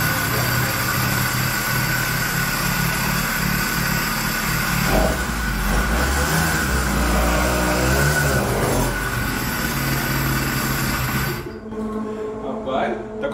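A homemade kart's 100cc engine runs with strong compression, a steady close rumbling drone that holds for about ten seconds before dropping away, with a voice faintly present beneath it.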